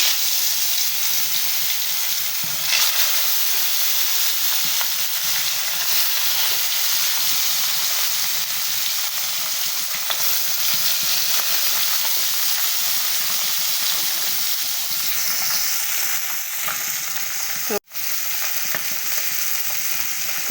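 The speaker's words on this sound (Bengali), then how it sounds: "তেলগুলো গরম হয়ে গেছে তো মাছগুলো আমি দিয়ে দিচ্ছি কড়াইয়ে" Hot oil sizzles and crackles continuously as koi fish fry in a wok, a dense, steady hiss close by with occasional spatters and one sharp clink near the end.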